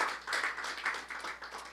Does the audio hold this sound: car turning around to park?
no